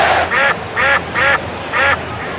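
A loud duck-quack sound effect plays during a baseball play-by-play broadcast, four brisk nasal quacks in a quick rhythm after the bases are loaded.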